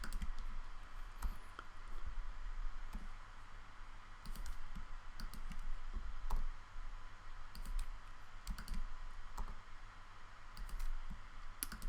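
Rapid keyboard and mouse clicks from Blender modelling work, alt-clicking to select edge loops, tap out in quiet, irregular bursts over faint room hum, with no talking.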